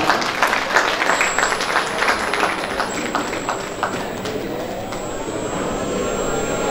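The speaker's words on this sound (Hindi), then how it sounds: "तालियां।" Applause fills a college golden jubilee get-together evening, a steady, dense patter of many hands clapping throughout, with a high electronic whine running over it.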